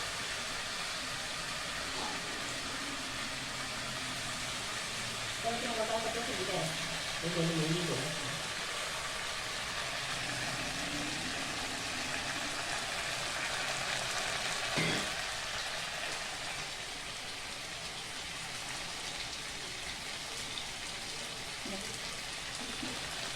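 A pan of kosha maangsho, Bengali meat and potato curry, sizzles steadily in a low, even hiss when water is poured in, with a few brief clatters, and the sound fades slightly toward the end.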